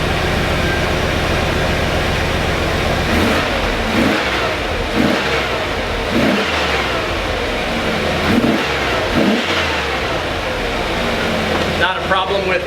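The LT1 V8 of a fourth-generation Pontiac Trans Am F-body runs smoothly and steadily, with repeated throttle blips rising and falling in a loud, close, continuous drone.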